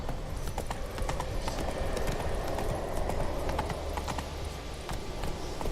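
Roach, a horse in The Witcher 3, gallops with a steady, fast run of clip-clop hoofbeats that stays close and even throughout.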